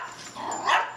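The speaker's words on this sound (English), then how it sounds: "the dogs are going to be playing" Dogs bark and yip at play, a few sharp barks rising toward the end over a quiet room, fairly close and moderately loud.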